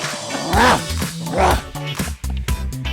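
A dog barks and yips several times in close, loud bursts, with whimpering, rising yelps in between and no voices over it.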